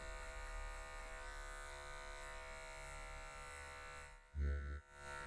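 Electric clippers run low at the back of the head during a short afro haircut, a steady close buzz that hums evenly, then briefly thumps and shifts near the end.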